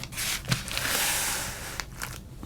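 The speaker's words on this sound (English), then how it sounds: "We're opening the pack." A 1987 Topps baseball card pack being torn open close to the microphone, a sustained crinkly ripping of foil wrapper with a few sharper crackles at the start and end, no talk.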